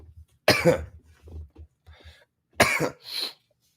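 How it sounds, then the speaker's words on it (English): Two harsh, loud coughs burst out close by, separated by a pause, the second followed by a raspy throat-clearing hack. "I always cough."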